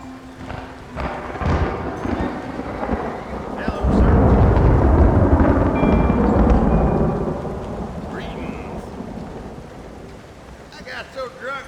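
A thunderstorm in the Red Dead Redemption video game: steady rain hisses while a deep rumble of thunder swells in the middle, peaks loud, then fades back to the rain, with faint other game sounds at the edges.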